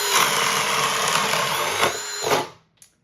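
A Ridgid 18V subcompact drill bores through wood with a 1-inch spade bit, a loud, steady whine that holds for over two seconds, bogs briefly, then spins down and stops, followed by a short faint clatter.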